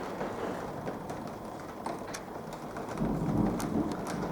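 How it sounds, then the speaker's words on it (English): A summer thunderstorm: steady rain hisses on surfaces while low thunder rumbles and swells toward the end, heard from indoors with no talking. "Thunderstorm."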